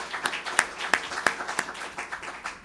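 Audience at a book fair interview in Miami claps for Capablanca's grandchildren, a sparse, uneven patter of hands with a few sharp, distinct claps standing out, fairly close and brief.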